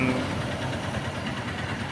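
Honda TMX motorcycle engine running steadily after a long ride, a constant medium-pitched rumble with faint knocking, heard close and alone.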